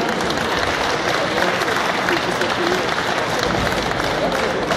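Audience applause fills a hall at a formal ball: dense, sustained clapping at an even level throughout, with crowd voices mixed in.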